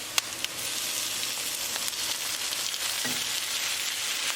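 Tomatoes hitting hot tadka with green chili in a beef curry pan, giving a steady, close, broadband sizzle that holds for several seconds, with a couple of sharp crackles early on.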